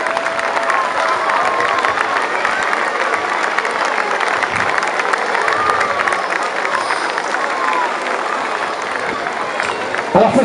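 A large crowd applauds and cheers at the opening of a youth football festival as the Festiman mascot arrives, continuous loud clapping with children's shouts mixed in.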